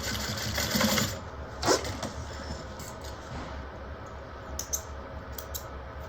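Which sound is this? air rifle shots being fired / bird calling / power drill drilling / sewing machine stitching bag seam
sewing machine stitching bag seam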